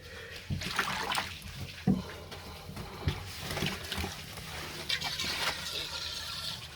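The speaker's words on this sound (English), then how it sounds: "Even sounds like a drain." Water runs and gurgles down a drain in a grimy spot, a steady wet trickle with a few sharper splashes and knocks over about seven seconds, heard fairly close.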